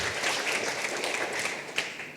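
A church congregation applauds during a worship service, a steady, even wash of clapping that sounds moderately distant and lasts the whole moment.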